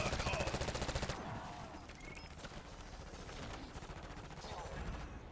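Automatic gunfire in the video game Black Ops 6, a loud rapid burst at the start that cuts off, followed by quieter clattering game sounds and faint background activity.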